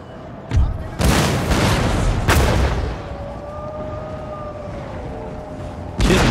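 Musket volleys and artillery booms in an Empire: Total War battle, several heavy blasts in quick succession followed by a lingering rumble and a thin whistling tone, with a final loud shot at the end.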